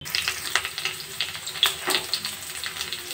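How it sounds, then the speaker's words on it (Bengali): Teasel gourd pieces sizzling in hot mustard oil with black cumin in a wok, a steady crackling fry close up, with scattered pops and stirring scrapes. "তেল গরম হয়ে গেছে, এবার কাঁকরোলগুলো দিয়ে দেবো"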